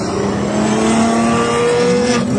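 An Aston Martin Valkyrie hypercar at Supercarfest 2024 revs loud and close, its sustained high-pitched engine note climbing slightly with no pause.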